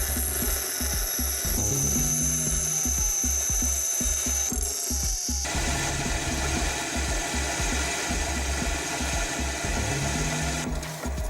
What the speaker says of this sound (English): With the help of the grinding machine, we give the desired shape.